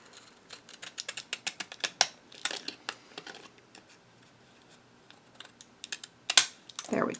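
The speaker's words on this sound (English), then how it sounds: "I'm going to take my same decorative scissors and just give the very edge just a slight" Decorative scissors snip along the very edge of a paper card, a run of small crisp clicks and cuts in quick succession, close and fairly quiet, with a pause before a few more sharp snips.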